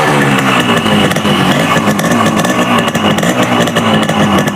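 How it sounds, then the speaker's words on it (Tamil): A 1994 Yamaha RX 100 two-stroke motorcycle with a bored-out engine, running loud and close in an unbroken throaty idle that flutters slightly throughout. "வண்டி வந்து ஸ்டார்ட் பண்ணி காட்டுறேன்."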